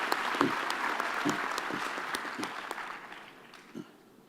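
A graduation ceremony audience gives a round of applause, with scattered, close claps over a fuller wash of clapping that thins and fades toward the end.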